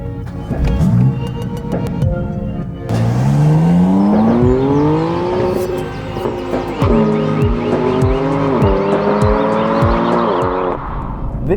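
2016 BMW M4 with a 3-litre twin-turbo straight six, 426 brake horsepower, driving hard, loud close engine revving through rising gear pulls with sharp shift breaks, steady and prominent with no talking.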